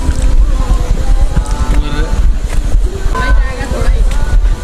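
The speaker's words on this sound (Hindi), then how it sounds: "ये अम्ब्रेला वाटरफॉल" Loud, steady rush of water from Umbrella Waterfall in Kashmir, Pakistan, filling the whole stretch close by, with people talking over it.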